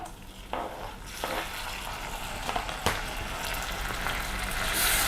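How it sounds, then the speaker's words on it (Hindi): Chopped tomato with asafoetida hits onions in a pan, giving a close, steady sizzling hiss that swells with a few stirring scrapes and spoon knocks, without any talk. "प्याज के साथ भूनेंगे थोड़ा सा"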